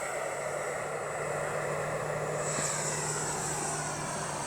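A Freewing Avanti S V2 RC jet on SMC packs takes off and flies in calm, windless air, its electric ducted-fan whine a steady high hiss that holds throughout at moderate distance, with a brief rise as it passes.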